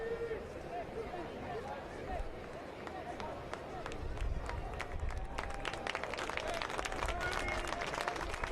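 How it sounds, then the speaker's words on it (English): Stadium crowd applauding an injured soccer player as he walks off the field during an AV Alta FC versus FC Naples match, a steady wash of distant clapping that swells louder in the second half, with crowd chatter and commentary over it. "is walking on his feet to a round of applause by the crowd"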